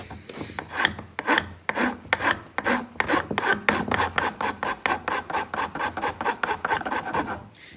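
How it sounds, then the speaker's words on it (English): A carved wooden scoop for a pole sling is sanded by hand with a series of rhythmic rasping strokes, close and crisp, each scrape a few tenths of a second long, repeating steadily and speeding up slightly toward the end. "Make a scoop in it, then sand."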